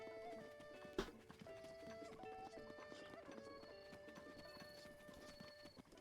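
Quiet rhythmic horse hoofbeats clip-clop steadily over layered game music in The Legend of Zelda: Breath of the Wild, with a brief sharp thump near the start.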